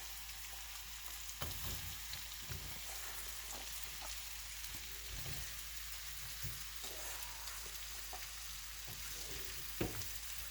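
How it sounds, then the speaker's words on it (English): Squash layered into a hot pan sizzles and fries with a steady close crackle, broken by occasional soft knocks and stirring sounds from the pan. "I want it to be hot so my squash will brown. And then I just start layering it into the hot mixture"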